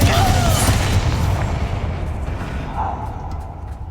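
Confringo fire spell cast in the Hogwarts Legacy video game inside a mine: a loud, rumbling blast that rolls on and slowly fades, with a brief voice near the start.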